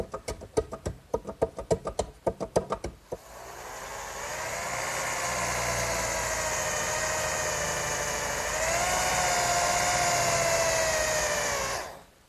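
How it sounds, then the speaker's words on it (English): An electric drill bores holes through the metal brackets of a wooden garden swing. A few sharp knocks open it, then a loud, steady motor whine runs for about nine seconds and rises slightly in pitch near the end before stopping. "these holes I'm drilling through the top of the metal brackets will align with the holes I drilled through the top of the wood piece"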